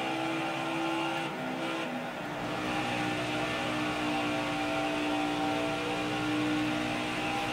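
Race car engines in the NASCAR Heat 5 video game hold a loud, sustained multi-car drone with steady engine whine and slight pitch shifts, continuous and close throughout with no talking.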